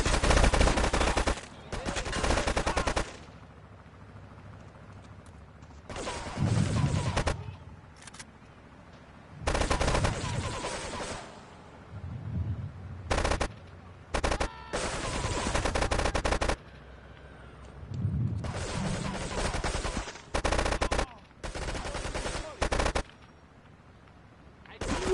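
Gunfire in GTA 3 Definitive Edition, loud bursts of rapid automatic shots and single cracks in repeated volleys separated by brief lulls, with a voice speaking between the bursts.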